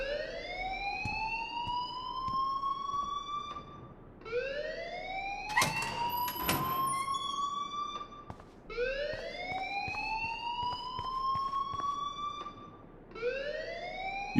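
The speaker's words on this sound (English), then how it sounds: "please turn off that alarm since that's your job." An alarm wails in the video game Life is Strange, rising in long repeating siren sweeps about every four seconds, loud and continuous, with a few sharp clicks in the middle and no speech.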